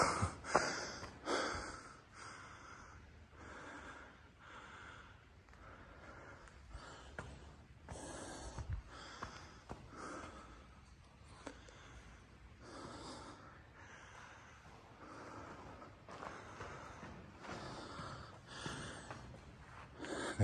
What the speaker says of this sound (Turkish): Nefes alışverişim için kusura bakmayın arkadaşlar.